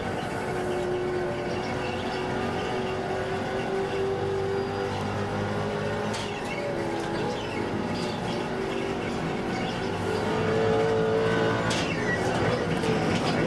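A GT race car engine at Road Atlanta in iRacing drones steadily along the front straight, its pitch sliding up through gears, with other cars' engines mixed in and brief sharp clicks near the end.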